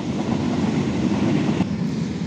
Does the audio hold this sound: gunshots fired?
no